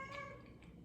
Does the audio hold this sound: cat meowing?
yes